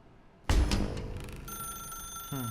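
A telephone rings in The Stanley Parable, a loud electronic bell trill that starts abruptly and rings on steadily with a sustained tone, then a second short burst near the end.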